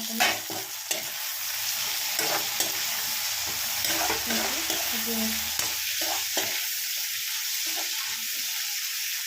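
A vegetable fry sizzles steadily in a pan while being stir-fried, with a constant hiss and occasional scraping clicks of the spoon, close and fairly quiet, no talking.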